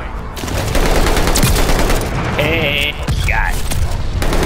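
Rapid bursts of gunfire from the Call of Duty: Vanguard multiplayer video game, loud and dense, with game sound effects layered over a continuous noisy backdrop.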